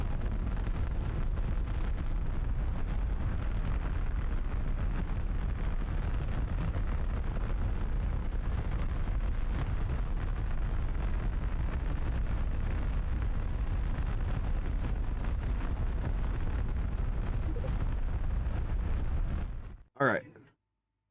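A big rocket engine roars in Kerbal Space Program 2 as a heavy, continuous low rumble that holds steady and loud for about twenty seconds, then cuts off abruptly with a short burst.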